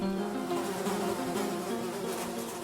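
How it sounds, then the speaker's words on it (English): Hundreds of flies in milk bottles on shelves in a small laboratory fly room, buzzing together in a dense, steady drone with wavering whines, close and continuous, with no voices. "The tiny fly room contained hundreds of these bottles on shelves, all buzzing madly."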